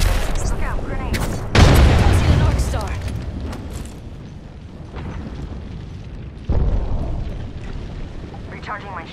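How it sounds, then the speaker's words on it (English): Grenade explosions in the battle-royale shooter Apex Legends: two loud, booming blasts several seconds apart, each followed by a rumbling decay, over busy game sounds with voice chatter mixed in. "Look out, grenades."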